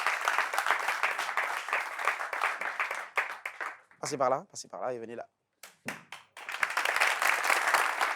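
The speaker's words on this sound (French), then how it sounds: "On l'applaudit pendant qu'elle arrive." An audience claps for a woman as she arrives on a talk show set. Bursts of applause open and close the stretch, and someone speaks briefly in a gap in the middle.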